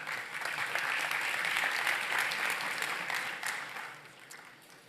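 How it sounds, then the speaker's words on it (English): An audience at a financial forum claps for a panel, a dense burst of applause that swells and then fades out over a few seconds. "A round of applause, please, for our panel."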